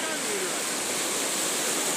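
Floodwater from a heavy rain cloudburst in Malegaon taluka rushes through farm fields, a steady dense roar of flowing water, close and continuous without pause.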